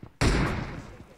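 A single sharp, loud blast of a grenade going off in PUBG Mobile, close by, with a short fading rumble afterward.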